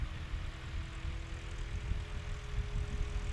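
A steady, droning propeller engine on a Legend Aircraft MOAC STOL plane fitted with a new muffler, running loud and continuous with a low rumble and a faint tonal hum at a STOL competition practice.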